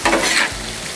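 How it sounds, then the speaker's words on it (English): Cowboy stir fry sizzling and bubbling on a Blackstone griddle, a brief close burst of frying hiss with a stir that fades to a lower steady sizzle. "it's just bubbling, it's reducing, it's making it nice"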